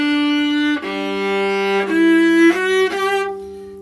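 A viola bowed loudly with heavy arm pressure gives a dense, somewhat forced sustained tone over a few bow strokes with small breaks between them, played close and alone.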